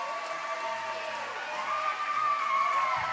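Crowd at a juniors roller derby bout cheering as a skater pumps them up, a steady roar of voices swelling slightly louder toward the end, with higher shouts riding over the din.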